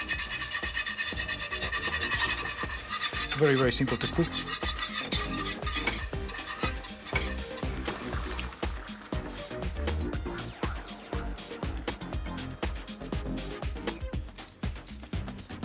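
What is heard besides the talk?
whisking polenta in boiling water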